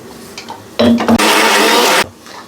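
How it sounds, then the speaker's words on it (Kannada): A mixer grinder whirs loudly for about a second while grinding masala for a chicken gravy, after some lighter clattering and brief motor starts. "ಇವಾಗ ರುಬ್ಕೊತೀನಿ."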